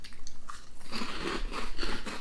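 Close, loud crunching of pizza-flavored corn chips with a tomato and basil seasoning, steady rhythmic bites and chewing with no talking over it.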